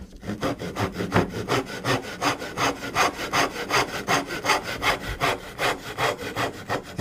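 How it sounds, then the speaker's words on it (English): A hand saw cuts a tenon shoulder in wood with a brisk, regular rhythm of about two strokes per second. The rasping push-and-pull strokes are close and loud, with no talking. "Be careful not to saw into the cheek of the tenon."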